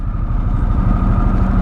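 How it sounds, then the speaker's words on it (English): A 2024 Harley-Davidson Sportster S sits idling close by, giving a steady, even low-pitched rumble with a smooth, continuous throb and no revving. "This engine is smooth"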